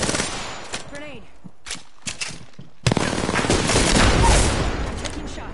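Bursts of automatic gunfire in a squad video game shooter, short volleys at first, then a sustained loud barrage after a brief gap, with voices in the background.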